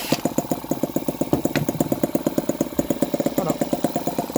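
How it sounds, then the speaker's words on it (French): A tiny four-stroke model engine spun up with a power drill, giving a steady rapid buzzing putter of regular firing pulses, close and fairly loud throughout without any talk. "Là je vais le démarrer. Donc on fait la perceuse, mais on peut mettre un lanceur."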